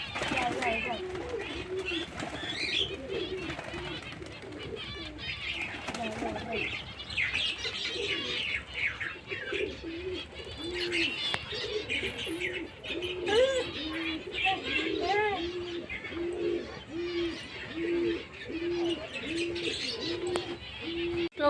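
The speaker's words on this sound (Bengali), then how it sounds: "7টা পায়রা একজোট হয়ে উঠছে" A flock of seven pigeons takes off and flies, with cooing, chirps and some wing flapping nearby. People talk over the birds.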